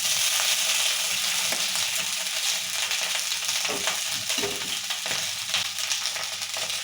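Chillies and bottle gourd peel frying in oil for a chutney, a steady, loud sizzle that fills the whole stretch with occasional faint stirring knocks underneath.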